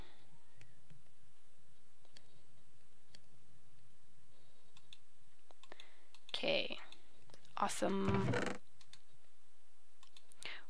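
Computer mouse clicks while playing Minecraft, a scattering of faint, quiet ticks spread through a mostly still stretch, with a brief spoken voice near the end.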